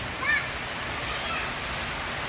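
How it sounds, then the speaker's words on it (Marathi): Water gushes and splashes in a continuous rushing stream nearby as it pours in through a leaking roof during a cloudburst, with a brief faint voice in the background near the start. "वरनं पाणी यायला लागले खूप तिथनं"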